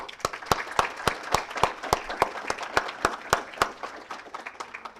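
An audience at a Conventus '24 valedictory session applauds students with steady, evenly paced claps close by, holding a regular beat throughout over a soft background wash.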